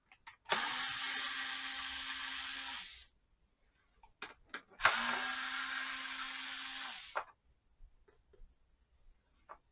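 A cordless screwdriver whirs in two steady bursts of about two and a half seconds each, used to remove plastic caps from the airbox of a Kymco CV3 scooter, with small clicks and handling noises between the runs.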